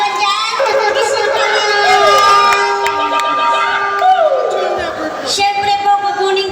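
Audience at a fiesta performance shouts and cheers steadily throughout, children's voices prominent in the crowd noise, with sustained tones of music or singing running underneath.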